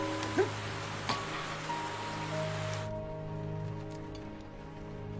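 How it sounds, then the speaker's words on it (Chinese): Heavy rain falling in an outdoor scene in 1930s-style Shanghai, a dense, steady hiss with a few louder drops, cutting off abruptly about halfway and leaving only a low background hum. "下这么大雨"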